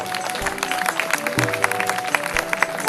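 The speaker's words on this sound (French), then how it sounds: "je crois que vous pouvez l'applaudir un petit peu" Spectators at an outdoor horse dressage display applaud in light, scattered clapping over background music and ambient noise, with the occasional thud of hooves.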